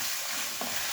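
Chopped onion and garlic sizzle in olive oil in a pan for lasagne, a steady close hiss with a brief stirring scrape partway through.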